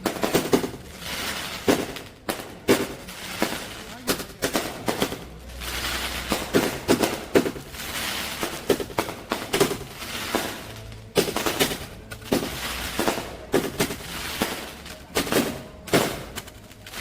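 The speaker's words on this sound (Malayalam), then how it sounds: "റോഡിലെ വാഹനങ്ങൾ തടഞ്ഞു നിർത്തി മുന്നിൽ പടക്കം പൊട്ടിച്ചാഘോഷിച്ച്" Firecrackers burst in rapid, irregular volleys on a busy road in Surat during a birthday celebration, sharp cracks and popping strings repeating throughout, fairly close, with crackling between the louder bursts.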